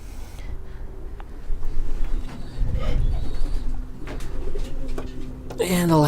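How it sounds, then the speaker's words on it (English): Racing pigeons coo softly in their loft boxes, low murmuring calls under someone speaking nearby, with a higher bird call at the end. "And so far, all these birds are cockbirds."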